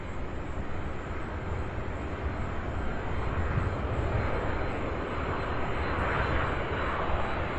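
A jet airliner lands at Louisville SDF airport, a sustained broad engine roar that swells slightly as it passes, heard at a distance with no talk over it.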